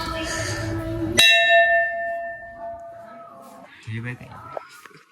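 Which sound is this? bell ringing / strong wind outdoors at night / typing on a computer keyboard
bell ringing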